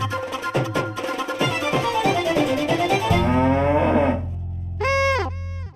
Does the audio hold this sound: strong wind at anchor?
no